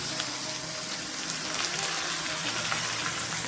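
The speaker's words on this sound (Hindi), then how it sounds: "अच्छा से मिक्स करेंगे और 5 मिनट फ्राई करेंगे।" Chicken liver frying in a pan with cloves and cinnamon, a steady close sizzle and crackle running without a break, no voices.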